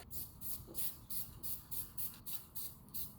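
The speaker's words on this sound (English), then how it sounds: "go ahead and spray it" Repeated short hissing bursts of aerosol spray paint, about a dozen quick sprays in a steady rhythm, close and fairly quiet.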